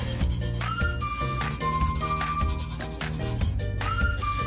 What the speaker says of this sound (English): take a glove and basically rub your glitter